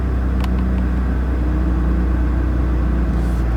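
A car on a drive in Sport Plus mode produces a loud, steady engine and road drone from inside the cabin, with a low rumble sustained throughout and no speech.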